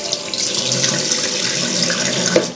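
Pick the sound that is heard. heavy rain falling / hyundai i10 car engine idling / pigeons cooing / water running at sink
water running at sink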